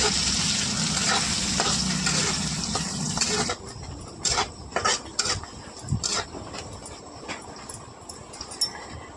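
Loud broadband sizzling of chopped onion frying in oil with cumin for a few seconds, then quieter with scattered clinks and stirring scrapes of a utensil in a pan.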